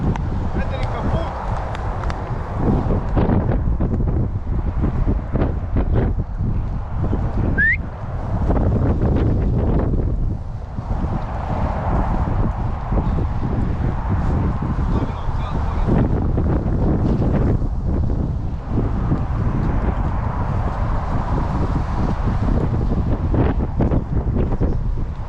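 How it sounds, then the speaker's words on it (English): Strong gusts of wind buffet the microphone outdoors, producing loud, low rumbling bursts that surge and ease over about 25 seconds, with people talking intermittently beneath the noise. "It's too windy."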